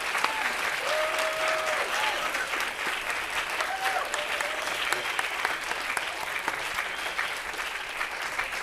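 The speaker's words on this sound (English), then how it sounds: "Can we have a round of applause for that spiritual experience?" An audience breaks into sustained applause at a public arts program, a dense, steady wash of clapping that holds for several seconds, with faint voices and a few whoops mixed in.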